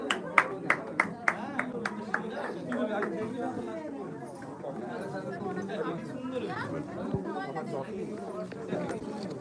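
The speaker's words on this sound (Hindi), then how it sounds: "ताली बजा दो सब कोई।" An audience at a lively science show at the Birla Industrial and Technological Museum gives a few sharp, evenly spaced claps at the start, then settles into steady crowd chatter and babble for the rest.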